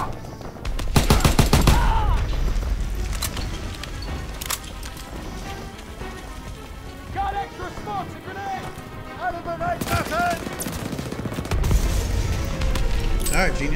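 Submachine gun fire in the World War II shooter Call of Duty WWII, with rapid bursts and scattered shots over battle noise and explosions throughout, loud and close, with voices talking over the fighting.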